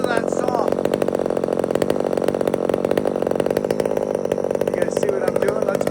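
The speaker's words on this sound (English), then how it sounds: "Listen to that saw." A chainsaw cuts into a huge tree with a loud, continuous buzzing roar close by, with faint voices under the engine noise.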